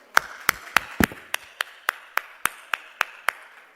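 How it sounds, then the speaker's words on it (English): Clapping at a scientific session gathering of delegates and guests, heard as a single person's slow, evenly spaced sharp claps, about a dozen over a few seconds, fairly close and with no talking. "So I would like to clap for all of you."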